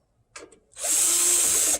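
A Black & Decker power drill gives a couple of brief clicks, then spins up into a steady, loud, high-pitched whine close by for about a second.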